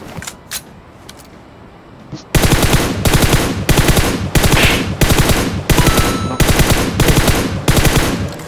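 Video game gunfire, a loud rapid automatic burst of about ten evenly spaced heavy shots following a few seconds of quieter clicks and rustling, with no talk over it.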